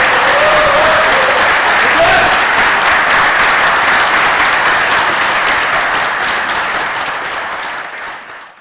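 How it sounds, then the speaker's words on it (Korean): A hall full of people at a Korean political party event claps vigorously in a loud, continuous wash of applause that fades out toward the end. "힘찬 박수 부탁드리겠습니다"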